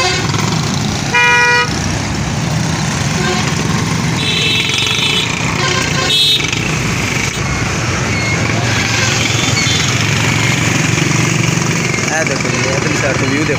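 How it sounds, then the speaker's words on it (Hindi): Busy street traffic in the city of Vehari, Pakistan, with a steady engine roar, several car horns tooting in short bursts, and voices in the background. "ट्रैफिक बहुत है जनाब"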